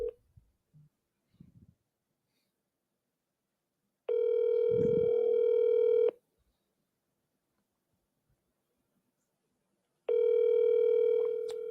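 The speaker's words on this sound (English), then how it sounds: "the very first thing I clicked on has a number that I'm going to call" A telephone call being placed: a few faint dial clicks, then two long ringback tones about six seconds apart, steady and clear in otherwise quiet surroundings.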